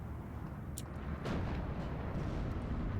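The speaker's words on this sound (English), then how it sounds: "BT7's firing here now." A BT-7 tank fires in the strategy game Steel Division 2, one muffled boom rising out of a dense, rumbling battlefield din that continues afterward.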